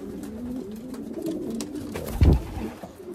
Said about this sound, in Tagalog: Distance pigeon.